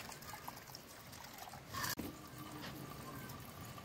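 Tap water running while peas are washed in a home kitchen, a steady trickle and pour that swells briefly near the middle, then settles back to a steady flow.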